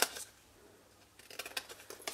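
Scissors cutting card paper for a box, a short close snip near the start, then a quick run of sharp crisp snips after a brief pause, with no talk.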